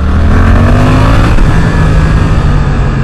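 A Suzuki GSX-8S motorcycle engine revs steadily on a test ride, loud and close, pitch climbing and then settling under rushing wind.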